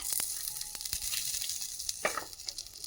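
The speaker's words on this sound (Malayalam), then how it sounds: "ഇനി ഞാൻ ചട്ടിയിലേക്ക് ബട്ടർ ഇട്ട് കൊടുക്കുകയാണ്" Butter sizzling in a hot clay pot, a steady close crackle with a brighter burst near the end and no talk.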